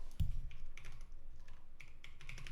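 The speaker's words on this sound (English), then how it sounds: "So that was some bad typing." Typing on a computer keyboard while coding in Love2D: a dull thump, then a steady, fairly close patter of keystrokes lasting a couple of seconds, with no talking.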